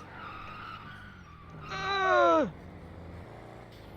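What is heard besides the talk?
car skidding and crashing in a video game roleplay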